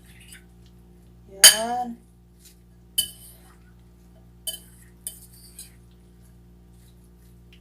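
Sweet potato leaf salad with ginger being mixed in a bowl with utensils, a few separate clinks and scrapes spaced seconds apart in a quiet room, with one brief spoken word at the start.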